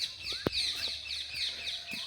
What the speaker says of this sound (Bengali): পাখিগুলো ডাকছে দেখো কি জোরে জোরে।